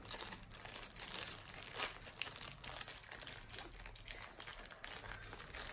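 Plastic blind bag package being torn open, faint close crinkling and rustling of the wrapper in irregular bursts.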